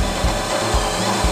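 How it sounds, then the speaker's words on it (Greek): A 6 mm drill bit bores into an olive wood pipe, giving a steady grinding, rasping whir with faint periodic low thumps as the bit rotates through the wood. "Αλλάζουμε σε ένα τρυπάνι 6 χιλιοστών"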